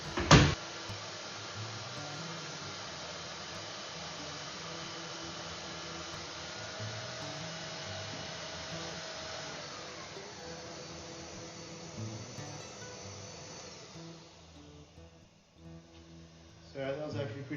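A Makita M9400B belt sander runs with dust extraction attached, a continuous loud whirring hum of belt and motor that holds steady before winding down near the end.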